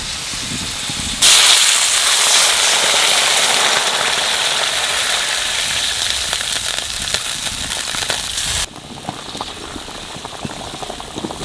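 Water poured onto fried potatoes in hot fish-frying oil bursts into a loud, harsh sizzle that slowly fades over several seconds, then drops abruptly to a quieter bubbling simmer.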